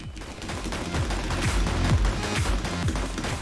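Rapid gunfire from a weapon in a video game, steady repeated shots in a quick, even rhythm, loud and close, with no talk.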